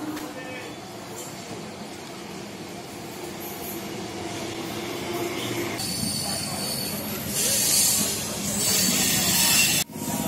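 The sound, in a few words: Howrah to Katwa local train running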